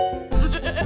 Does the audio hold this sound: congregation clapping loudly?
no